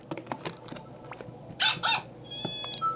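Cat meows from the Nintendogs + Cats game demo, two loud close meows in the middle over soft background clicks and taps, followed by a thinner, higher mewing toward the end.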